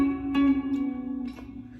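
A short electric guitar lick from a song's solo, a few picked notes in a triplet feel over a sustained ringing tone, close and clean.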